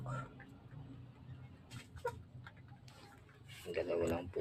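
Chickens clucking at feeding time on a backyard poultry setup, with steady close clucks and calls that grow louder toward the end, mixed with low farmyard noise while someone speaks over them.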